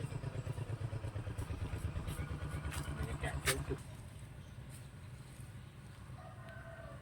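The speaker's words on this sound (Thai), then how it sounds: "เสียงเครื่องสูบน้ำ" A small water pump engine chugs steadily at a rural garden home in Non Thai, Korat, loud and rhythmic at first, then fading into a softer background hum as faint voices talk nearby.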